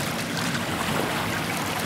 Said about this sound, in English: 115 horsepower engine on that boat.